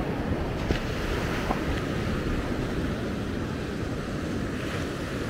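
Rough sea off Maspalomas, Gran Canaria, surges in a continuous, loud wash of breaking waves mixed with gusty wind buffeting the microphone, steady throughout with no voices.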